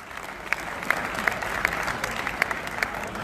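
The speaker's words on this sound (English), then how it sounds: "Let's give all the sponsors a big round of applause." Applause from a crowd at an outdoor charity walk event, fairly faint and steady, with a few louder individual claps and some short tonal chirps over the clapping.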